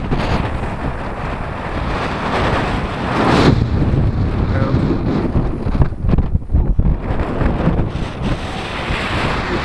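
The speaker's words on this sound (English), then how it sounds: "As you can see, it's a bit windy." Strong wind on Dartmoor buffets the microphone with a constant loud rumble, gusting harder partway through, with no voices.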